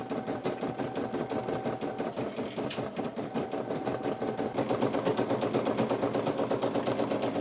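Multi-needle embroidery machine stitching, a fast, steady mechanical clatter close by that grows slightly louder and more even partway through, with no talk.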